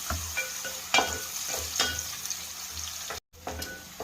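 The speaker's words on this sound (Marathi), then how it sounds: "त्याच्यामध्ये लसूण, थोडासा टोमॅटो परतून घेऊया।" Garlic and tomato sautéing over fried onion in a pan, a steady soft sizzle with intermittent stirring scrapes close by and a brief gap near the end.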